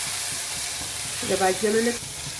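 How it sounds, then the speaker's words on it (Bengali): Onion and garlic with turmeric and coriander fry in a pan for a prawn dopiaza, giving a steady, even sizzle throughout, with a brief tonal, voice-like sound rising over it midway. "একটু ভেজে নিলে পেঁয়াজ রসুনের কাঁচা গন্ধটা চলে যাবে"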